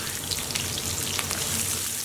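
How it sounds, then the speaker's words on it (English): French shallots sauté in a hot pan on the stove, a steady, close crackling sizzle that runs unbroken with no voices. "keep the pan on, because we're going to add our French shallots straight in"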